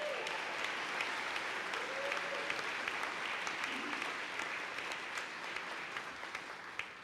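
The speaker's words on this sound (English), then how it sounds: "please another huge round of applause for one of the best speeches I've heard at a Sherman graduation" A large audience gives a sustained round of applause at a Sherman College commencement ceremony, a dense, even roar of clapping throughout with faint voices just audible underneath.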